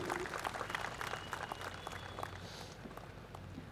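Scattered applause from a crowd at a police training college award ceremony in Junagadh, steady and moderately distant, with a faint background murmur and no clear talk over it.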